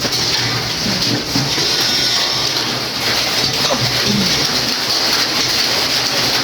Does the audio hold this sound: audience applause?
no